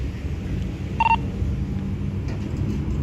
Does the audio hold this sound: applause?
no